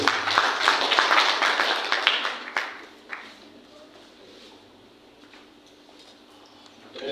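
Applause from the audience at an ordinary general assembly of the Association of Women Magistrates of Senegal, a loud burst of clapping that swells at the start, then thins to scattered claps and fades over several seconds.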